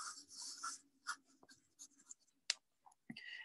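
Pencil drawing on toned Canson pastel paper: soft, scratchy strokes and short scribbles come in irregular bursts with brief pauses, close and quiet, with no talking.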